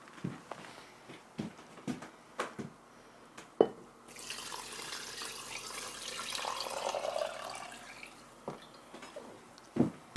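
Clear water strained for traditional Korean sikhye, a soft trickling pour lasting several seconds, set between scattered light drips and clinks, close and quiet with no talk.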